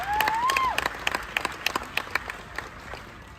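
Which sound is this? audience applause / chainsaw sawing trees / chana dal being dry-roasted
audience applause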